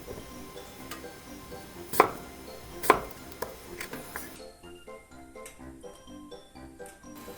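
A big piece of radish is cut up for a noodle soup broth, with a few sharp knife knocks on a board among softer handling clicks over faint background music.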